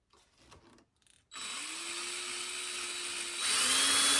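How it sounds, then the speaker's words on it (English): A power drill bores a hole in a handmade marking knife held in a vise, starting after a few quiet handling sounds and running as a steady high whine that steps up louder near the end. "And then we'll drill a hole."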